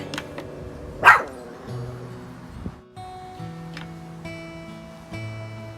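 Pet dog, a Jack, barking once sharply near the start while a succulent-in-pumpkin planting is underway, followed by quieter background clatter and no talk.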